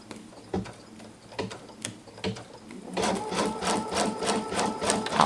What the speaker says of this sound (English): press the machine to get it started